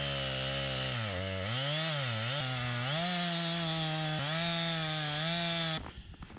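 A sharpened chainsaw cuts wood at an off-grid cabin during snow storm preparation, its engine snarling loud and close with rising and falling pitch as the blade bites, then cutting off abruptly at the end.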